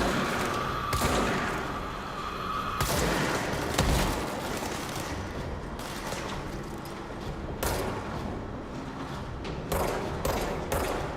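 Gunfire in the video game Control, rapid bursts of shots and heavy thuds overlapping in a dense, loud barrage that continues for the whole stretch.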